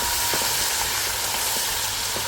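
Leafy greens sizzle in a hot pan with ginger-garlic paste, a steady broadband frying hiss with faint crackles, close and continuous with no voices.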